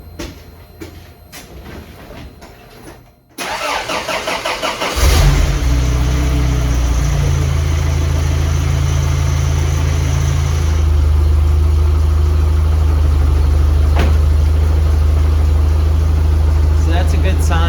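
A supercharged Toyota 22RE engine in a 4Runner is started from cold: a brief cranking gives way to a loud catch, then a steady, close, rumbling idle that holds for over ten seconds, with some talk over the start.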